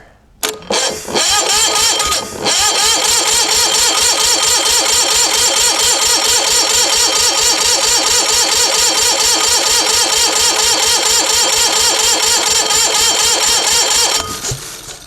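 An old, rusty Onan MDJE diesel generator engine cranks over steadily with a rapid, rhythmic chugging of the starter, loud and close, after a couple of brief clanks, then stops near the end.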